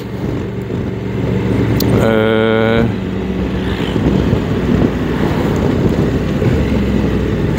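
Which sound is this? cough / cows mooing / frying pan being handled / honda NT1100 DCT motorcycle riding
honda NT1100 DCT motorcycle riding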